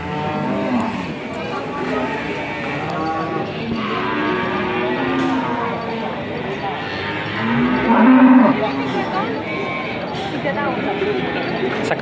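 Giant cattle, nearly a ton and muscular, moo loudly and close at a livestock sale, with a long drawn-out call amid constant crowd chatter and people talking nearby.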